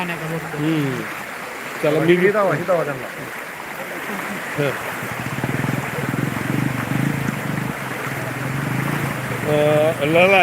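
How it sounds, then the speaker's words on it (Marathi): Floodwater rushes in a constant roar over a road beside a bridge while people talk loudly nearby. "या रस्त्यावरून ह्या पाण्याची आता गती वाढलेली आहे"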